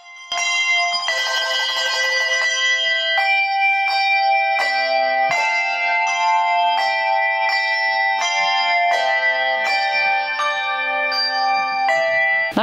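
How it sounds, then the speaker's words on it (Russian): A handbell ensemble from Voronezh plays medieval and modern music at a folk culture festival: bright, ringing bell tones struck in steady succession, overlapping and sustaining into a rich chiming texture, loud and close with no voices. "Для гостей выступила капелла ручных колоколов из Воронежа, исполнив средневековую современную музыку"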